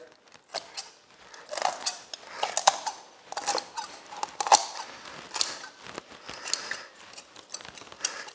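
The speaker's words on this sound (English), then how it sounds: "You're just going to cut down the side of the backbone here with a pair of sharp kitchen shears" Sharp kitchen shears snipping along a raw chicken's backbone, a series of crisp clicking, crunching cuts in an irregular rhythm, close and fairly quiet with no talk.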